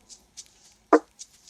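A sparse, quiet lofi drum part made in Logic Pro X with RC20, delay and EQ: soft, ticking hi-hat hits and one punchy snare hit, spaced and muted.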